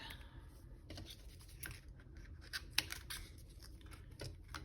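Foam tape strip being snipped for a scrapbook banner, giving quiet close scissor cuts and faint tearing over a low background hum, with a few sharp clicks near the end.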